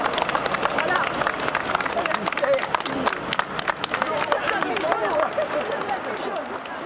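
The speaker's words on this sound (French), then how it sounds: "J'ai un applaudissement pour le docteur." An audience at a gathering supporting a doctor claps in a dense, continuous patter of applause with crowd murmur, moderately loud and sustained, with no clear speech on top.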